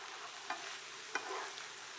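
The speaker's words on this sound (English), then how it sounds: "We're gonna add in our onion and the cauliflower. And we're gonna cook this down" Onion and cauliflower cook in a skillet with a faint, steady sizzle, and two brief stirring scrapes break through it.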